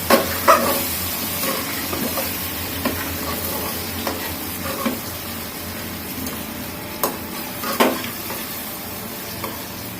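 Food sizzles steadily in a pan of hot oil with turmeric and salt, broken by several sharp clinks and scrapes of a spatula stirring, close and continuous with no voices.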